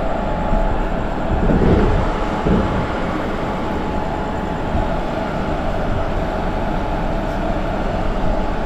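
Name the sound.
train passing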